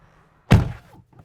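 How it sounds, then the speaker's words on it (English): A single solid thunk from a Tesla Model 3 car door as it opens with the handle button, close and fairly loud, then a soft decaying rattle and a faint click. "Opening the door is accomplished with a little button on the handle."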